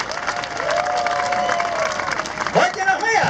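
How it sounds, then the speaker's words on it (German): Audience applause at a Western cowboy show in a German safari park, a loud sustained crowd clapping with some cheering while an announcer speaks over it through a PA. "für Ihren gigantischen Applaus."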